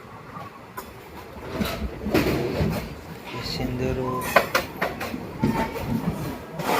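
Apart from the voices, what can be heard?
train slowing into a station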